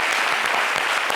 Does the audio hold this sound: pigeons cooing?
no